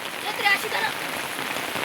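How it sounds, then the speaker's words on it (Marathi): Heavy rain pouring steadily, a dense hiss of drops hitting surfaces, with a brief bird-like chirp near the start. "एवढं पाऊस येतोय, एवढं पाणी वाहतोय"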